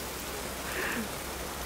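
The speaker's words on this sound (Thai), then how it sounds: "ตอนนี้นะคะที่ตำบลบ้านครัวอำเภอบ้านหมอจังหวัดสระบุรีฝนตกหนักมากค่ะ" Heavy rain pounds on a tent during flooding in Saraburi, Thailand, a dense, steady hiss filling the whole clip with no clear pauses or voices.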